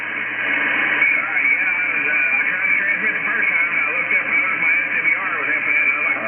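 Amateur ham radio transmission carries a voice through a narrow band of hiss and static, and the hiss runs steadily and loud throughout.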